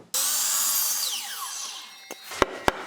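A miter saw makes a 45-degree cut through a piece of wood, a loud steady whine that winds down after about a second, followed by a few sharp knocks.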